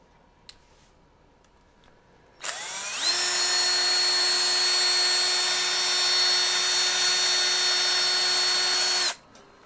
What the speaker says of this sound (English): drill a pilot hole in the center of where I'm going to be drilling in my frame